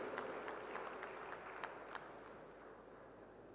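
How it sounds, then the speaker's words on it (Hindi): Audience applause for a recited poem at the 76th ICAI annual function, a steady wash of clapping from a large hall crowd, fairly faint and even, slowly thinning out over a few seconds. "ताली बजा दीजिए शायरी के लिए"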